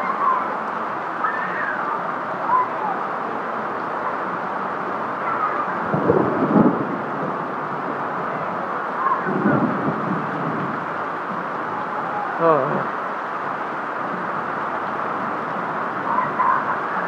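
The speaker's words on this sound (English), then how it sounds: "Probably never seen it rain this hard in my life." Heavy rain roaring steadily at Kings Dominion amusement park, with several deep rumbles of thunder rolling in at intervals over the constant downpour.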